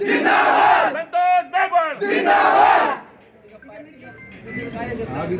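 Political supporters at a BJP ticket rally chanting slogans together, loud and close, with bursts of voices and gaps, then a quieter crowd murmur.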